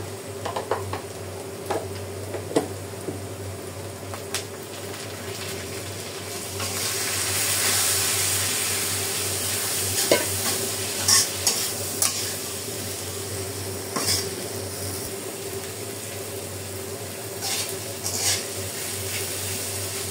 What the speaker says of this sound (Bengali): আমার মশলা সহ সবকিছু কষানি হয়ে গেছে।